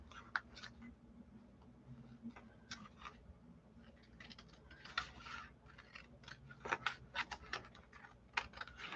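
Scissors snip through paper for a mixed-media journal, a run of crisp, closely spaced cuts that grow louder and faster toward the end, heard close up with a low steady hum behind them.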